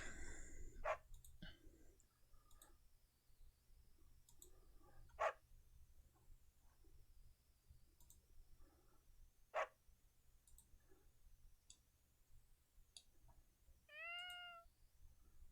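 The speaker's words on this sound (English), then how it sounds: "Just sounds of cats and dogs." Cats meow and dogs bark as in-game ambient sounds in Fire Emblem: Three Houses, short quiet calls spaced every few seconds over a faint low hum.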